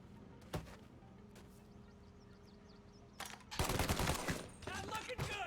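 Gunfire from Mafia: Definitive Edition: a sparse early shot, then dense bursts of overlapping shots erupting in the second half, loud and close.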